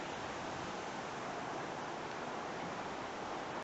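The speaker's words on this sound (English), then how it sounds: "It's really windy out." Steady, roaring broadband rush of strong wind buffeting a microphone, constant and loud for the whole stretch, cutting off abruptly at the end.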